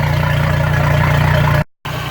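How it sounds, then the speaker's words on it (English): A 2015 Regal boat engine runs at a steady idle with an even, pulsing exhaust rumble, loud and close, broken by a brief dropout near the end. "nice solid water flow, good sounding, even exhaust."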